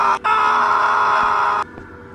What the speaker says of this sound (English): But I go behind him and he's just screaming at the air.